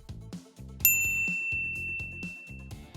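A bright bell-like notification ding rings out once and lingers with a sustained shimmering tone over rhythmic background music.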